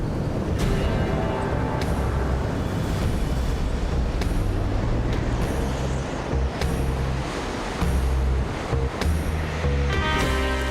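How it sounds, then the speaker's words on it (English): Heavy rain pours down on a forest as gentle showers turn into a deluge, a dense, steady roar of falling water that stays loud and continuous throughout, with deep rumbling underneath. "The gentle showers become a deluge"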